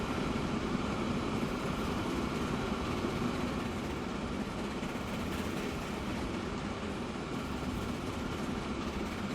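A loaded train rolling steadily with a long set of cars in the video game Transport Fever, a continuous broadband rumble and rail noise at even loudness with faint clickety-clack, no voices.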